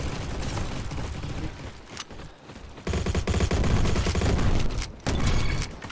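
Gunfire in a video game comes as dense automatic bursts, loud and close. It rattles in rapid clusters separated by short gaps, with no voice over it.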